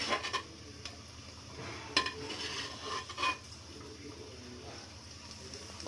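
A spoon scoops half-fried chicken pieces out of a pan for pot biryani, with soft scraping and clinks over a low sizzle of frying oil, the clinks faint and scattered.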